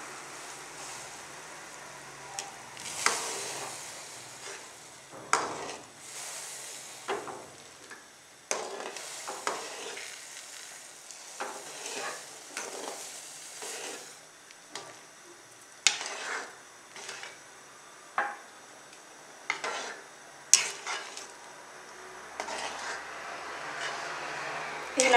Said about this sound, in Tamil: இப்போ ரவையை கொட்டி கிளறிக்கலாம்